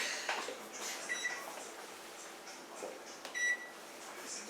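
Oven control panel giving a few short electronic beeps as it is set to preheat to 350 degrees, faint against a quiet kitchen hum.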